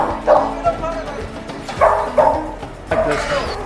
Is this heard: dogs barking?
yes